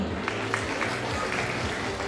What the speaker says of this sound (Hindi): आवाजें भी जोरदार आनी चाहिए तालियों की